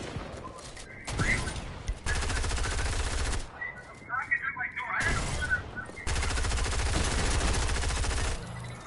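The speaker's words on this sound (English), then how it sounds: "I just had to shoot him with the SMG." SMG gunfire in a video game comes in long, loud, rapid-fire bursts separated by brief pauses, with sharp impact and shell sounds between them.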